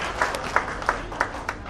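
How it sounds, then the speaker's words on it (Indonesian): An audience at an energy community gathering in Bali claps for a senior leader, a brief round of applause with several distinct sharp hand-claps standing out in a steady rhythm over the crowd. "tepuk tangan buat leader kita yang paling gila"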